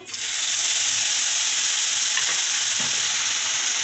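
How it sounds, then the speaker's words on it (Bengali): Bay leaf and cumin hit hot oil already holding ginger, cinnamon and cardamom, bursting into a loud, dense, continuous sizzle that holds steady and close. "এখন তেজপাতাটা দিয়ে দেব, তারপরে জিরাটা দিয়ে দেব।"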